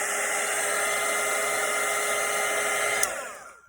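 A hair dryer blows at full power for several seconds over a freshly painted watercolour Christmas cottage, then cuts off at the end.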